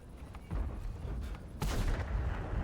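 Tank cannon fire in World of Tanks, from a Waffenträger tank destroyer battle: heavy booming shots over continuous rumbling battle noise, with a strong blast about halfway through.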